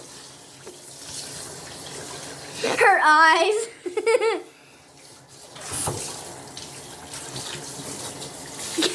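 Tap water runs steadily as a puppy gets a bath at home, with louder splashing bursts midway, and people talk and giggle throughout.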